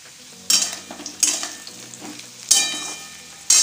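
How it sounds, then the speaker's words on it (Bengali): Taro curry cooks in a pan with a constant low simmer, broken by several loud scraping strokes as a spoon stirs it at irregular intervals, near and clear, with no talk. "আর এই গাটি কচুর তরকারি রান্না করছি।"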